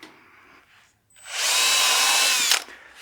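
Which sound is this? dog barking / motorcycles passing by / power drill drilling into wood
power drill drilling into wood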